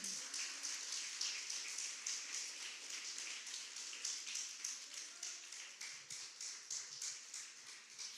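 Church congregation clapping their hands as an offering of praise, a soft and even run of many claps heard from a distance that settles into a steady rhythmic beat.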